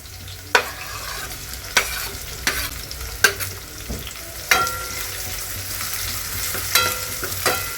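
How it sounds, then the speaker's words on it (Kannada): Onions frying in a pan, a light sizzle under regular sharp scrapes of a spatula stirring roughly every second, close and clear with no talk. "ಈರುಳ್ಳಿ ಹಾಕೊಂಡು ಚೆನ್ನಾಗಿ ಫ್ರೈ ಮಾಡ್ಕೊತೀನಿ."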